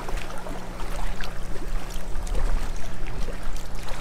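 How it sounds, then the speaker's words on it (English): Engine rumble and wash from a boat passing on open water, a steady loud churning roar with splashing and rushing water throughout. "There's another boat that's going faster than 5 knots."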